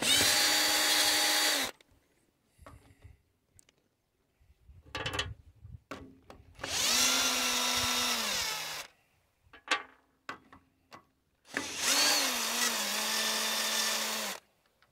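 An impact power tool whirs in three sustained bursts of a few seconds each, loosening the bolts on an Ursus tractor's front suspension. Clanks and knocks of metal parts fill the pauses between bursts.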